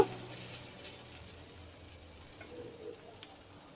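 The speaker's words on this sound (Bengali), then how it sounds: "এখানে আমি সমস্ত কিছু ভালোভাবে কষিয়ে নেব।" Spices for a bitter gourd curry sauté in a pan, giving off a faint, soft, continuous sizzle and hiss with a few small pops.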